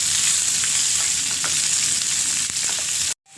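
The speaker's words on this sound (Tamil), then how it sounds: "கருவேப்பிலை, வெங்காயம் போட்டுக்கலாம். வெங்காயம் வதங்கணும்." Curry leaves and onions sautéing in a pan for a Tamil shredded chicken fry, a steady close sizzle with faint scraping stirs, running alone and cutting off just before the end.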